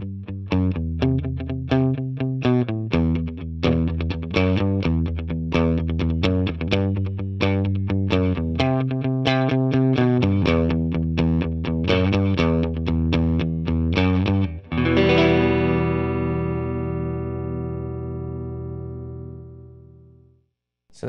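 An electric guitar played through a Two Rock Studio Signature amp with reverb picks out a run of quick, bright notes, then lands on a final chord that rings out and slowly fades into a reverb tail, loud and close.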